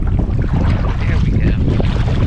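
Strong winter wind buffets the microphone while a kayak is paddled on open water, a steady loud roar of gusts and water noise with no voices.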